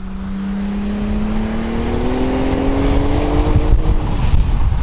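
A Toyota Celica RA23 fitted with a twin-turbo 1G-GTE engine, taken from an 89–90 Toyota Supra, runs at a steady, loud idle with a slowly rising pitch and a faint turbo whine above it. No speech is heard.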